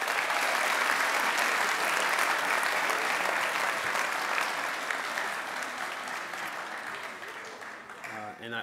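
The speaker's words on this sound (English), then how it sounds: "another round of applause for them" Audience applause fills a school assembly hall at a senior last assembly, steady dense clapping throughout that slowly thins toward the end as a voice begins to speak.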